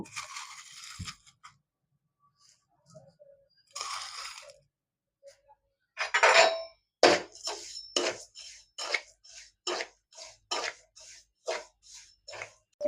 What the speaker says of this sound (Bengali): আবার এই নুনটা আমি আবার কড়াইতে দিয়ে দেব আবার ওরকমভাবেই আমি ভেজে নেব